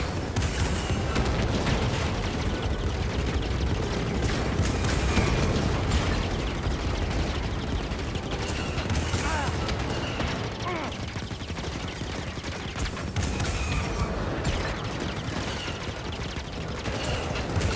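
Blaster fire and explosions in the Star Wars Jedi: Fallen Order video game, a dense continuous barrage of booms and mechanical clatter at steady loudness, with a voice faintly underneath.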